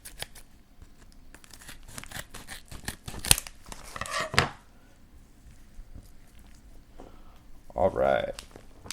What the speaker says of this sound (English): Trusty shears.